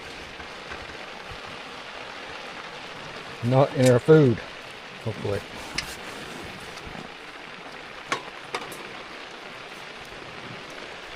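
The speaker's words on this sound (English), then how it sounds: "I'd say we're getting heavy rain now, guys." Heavy rain pounds an Otter Resort tent in a steady, dense hiss of drops on the fabric, with a brief spoken remark partway through.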